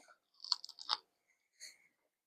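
Someone chews a crumbly, caramelized Bisquick mincemeat cookie close up, with quiet crunchy bursts in two bunches and a softer one after a pause, surrounded by silence.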